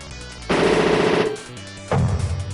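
A Gatling gun fires in the video game Power DoLLS, two loud bursts of rapid automatic fire, the first lasting under a second and the second starting after a short pause.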